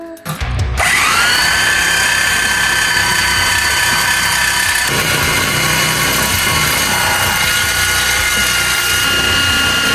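A power tool cuts through a metal part on an older BMW E46 during a turbo build, a loud steady whine with shrill high tones running continuously after a brief start-up, no talking.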